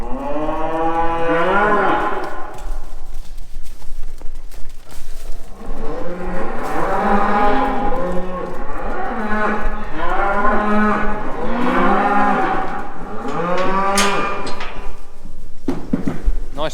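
Heifers in a cattle shed fitted with concrete panels moo loudly and repeatedly, several calls overlapping close by with barely a pause, and a voice briefly calls out among them.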